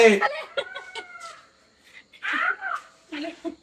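A peacock calls with a drawn-out, wavering cry, fairly close and loud, amid bursts of people talking nearby.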